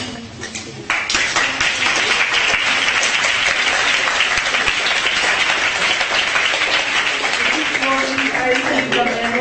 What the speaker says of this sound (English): just another round of applause for our fellow co-chair, Georgia.